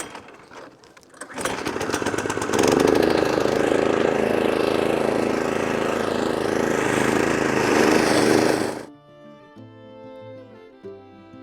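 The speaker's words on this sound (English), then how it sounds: "So we're going with the hay tractor and just suck all that debris that comes up" Hay tractor mower vacuuming debris off a thick lawn, a loud sustained engine roar with a rattling whine that starts abruptly and cuts off after several seconds, followed by quieter music.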